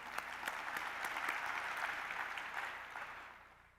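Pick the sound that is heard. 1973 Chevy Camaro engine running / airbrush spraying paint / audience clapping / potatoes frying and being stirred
audience clapping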